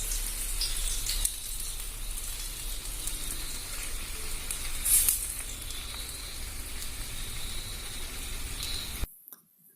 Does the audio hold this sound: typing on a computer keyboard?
no